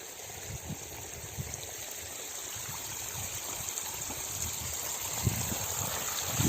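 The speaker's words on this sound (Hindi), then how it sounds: "ये इस तरीके से पानी आ चुका है। ये अब ये जाएगा आगे खेत की ओर।" Irrigation water flows steadily through a small earthen field channel on an organic cabbage and pea farm, a continuous close gurgling trickle with soft splashes.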